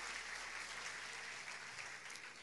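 Steady applause from a church audience at a health talk, sustained and even throughout, fairly faint and distant with no voices over it.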